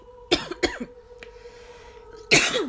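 A few sharp coughs from someone close by, two quick ones and then a harder one after a short pause.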